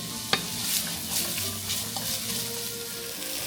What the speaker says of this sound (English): Let those brown up. We're going to saute them until they're translucent